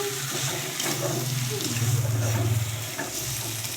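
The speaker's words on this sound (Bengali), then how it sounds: "মশলার সঙ্গে মাংসগুলোকে ভালো করে কষাতে থাকবো" Chicken sizzles and scrapes in a pan as it is stirred with spices, a steady hissing fry with soft clattering, close up and continuous.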